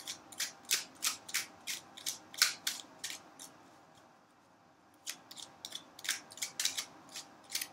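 A tarot deck is shuffled in quick bursts of crisp card riffles and slides, close and fairly quiet, with a short pause midway before the rhythmic shuffling resumes; no voices.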